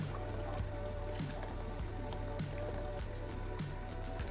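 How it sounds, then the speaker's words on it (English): Coconut milk poured into a frying stew for chicken coconut jollof rice, a close, steady liquid pour with small drips and soft splashes, no speech. "Pour in the coconut milk."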